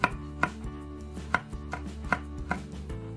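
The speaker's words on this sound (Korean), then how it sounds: "양념에 들어갈 대파 60g, 청양고추 3개, 홍고추 1개는 잘게 잘게 썰어주세요." Green onion and chili peppers being finely chopped with a knife on a board, a series of crisp, evenly spaced chops, close and clear with no talking.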